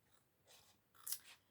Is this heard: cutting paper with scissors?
yes